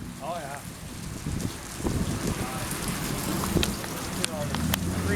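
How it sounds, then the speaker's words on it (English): Hail from a Minnesota afternoon hailstorm rattles down in a dense, steady patter of small impacts that fills the whole stretch, with people talking over it. "Freaking hail."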